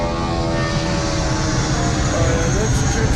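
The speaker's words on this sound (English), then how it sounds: "That's Jetstar 504 off to Sydney" Jetstar airliner departing Melbourne Airport for Sydney, its engines giving a loud, steady roar throughout, with a voice faintly audible underneath.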